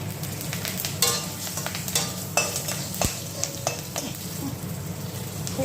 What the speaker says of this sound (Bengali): তেজপাতা দিলাম, শুকনো লঙ্কা দিলাম, পাঁচফোড়ন দিলাম, 2 কাঁচা লঙ্কা।